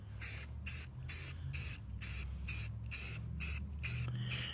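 Aerosol spray paint hissing onto old Chevy truck wheels in about nine regular bursts, each lasting roughly a third of a second with short gaps, close and steady, no talking.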